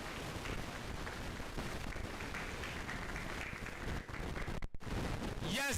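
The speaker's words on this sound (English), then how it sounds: "Please, a round of applause while we celebrate these great icons." Steady applause at a school of engineering induction ceremony as honourees are celebrated, a fairly quiet, continuous wash of clapping with some wind-like rumble and a brief dropout near the end.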